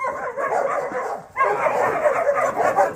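Dogs from a pack being let out bark and yip close by, a continuous stretch of overlapping barking with a brief dip midway.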